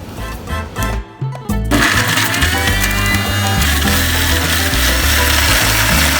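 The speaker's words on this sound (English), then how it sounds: "just chop it into more manageable pieces and shove it in the grinder" Electric kitchen grinder roaring loud and close as it blends raw papaya pieces into a paste for a mutton marinade, after a few brief starts and stops.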